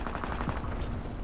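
Rapid gunfire from the Fortune's Keep video game crackles steadily through the whole short burst, dense and continuous, with a sharper noisy crack near the end.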